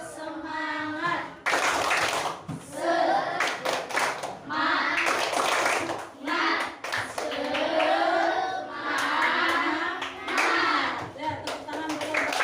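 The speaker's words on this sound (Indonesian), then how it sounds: "mari kita tepuk semangat dulu ya anak-anak" Elementary schoolchildren in a classroom clap a rhythmic chant-along spirit clap, bursts of quick patterned hand claps that stop and restart, with young voices chanting between and over them.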